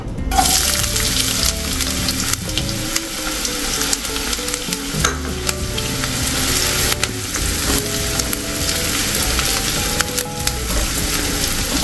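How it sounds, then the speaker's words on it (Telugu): Onions frying in hot oil in a kadai on a stove, a loud continuous sizzle with scraping stirs and clicks of a spatula throughout. "ఆయిల్ హీట్ అయిందండి. ఇప్పుడు ఆనియన్స్ వేసుకుందాం."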